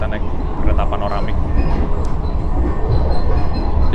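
A Blambangan Express passenger train rumbles along the rails on Java's northern line, a loud, continuous, dense rolling noise heard from inside the carriage.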